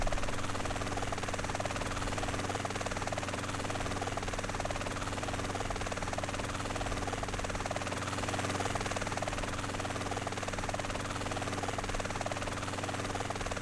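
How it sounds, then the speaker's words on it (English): Helicopter in Grand Theft Auto San Andreas, a steady loud rotor and engine drone holding evenly throughout with a faint rhythmic chop beneath, no talk. "Come on, helicopter."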